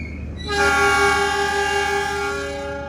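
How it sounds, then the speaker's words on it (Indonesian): The Malabar train departs an Indonesian railway station with a loud, sustained horn blast over the rumble of the rail cars, heard fairly close and alone. "kereta api Malabar diberangkatkan terlebih dahulu"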